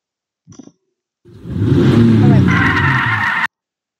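Car driving and skidding in the Roblox game Sports Car Simulator 3, a short voice sound followed by a loud engine roar that swells and holds with a tyre screech layered on top before cutting off abruptly.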